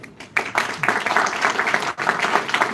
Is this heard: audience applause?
yes